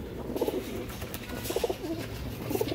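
Pigeons in a loft cooing in soft repeated bursts, three clear rounds of low throaty calls over a faint background hum.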